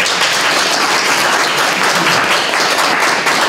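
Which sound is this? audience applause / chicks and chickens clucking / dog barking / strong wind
audience applause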